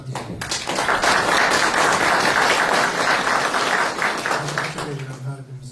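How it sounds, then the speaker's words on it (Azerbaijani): An audience at a memorial event for tar player Nizami Huseynov claps together in sustained applause that swells quickly and fades at the end, with a voice briefly audible. "Mən istərdim ki, bir alqışlarla Nizam müəllimi yad edək."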